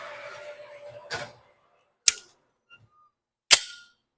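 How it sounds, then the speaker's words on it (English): A pistol fires three sharp, loud shots during shooting transition practice on a range, each crack well spaced and followed by a brief decay, with a faint mechanical hum fading out before the first. "I'm just going to go one shot each left to right"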